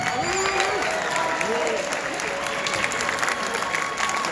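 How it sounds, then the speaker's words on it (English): An auditorium audience at a high school ring ceremony gives steady sustained applause for the coaches, with some voices and murmur underneath. "please stand up and give them a round of applause at this time."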